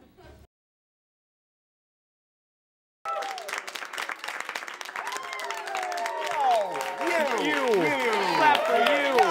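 Studio audience applause rises after a short silence and continues steadily, with cheers and whoops over the clapping and speech-like voices mixed in.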